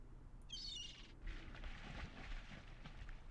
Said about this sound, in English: It's a seagull.